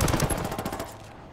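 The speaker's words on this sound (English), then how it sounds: "Heavy fire here. Hostiles are going loud." Heavy automatic gunfire from the video game Ghost Recon Wildlands, a loud, rapid burst of machine-gun shots that rattles on continuously before tapering off.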